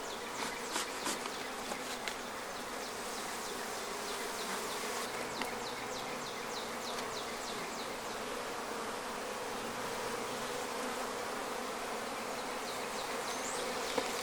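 Honeybees hum in a dense continuous drone from an opened hive box with cross comb, close and steady throughout, individual bees buzzing past now and then.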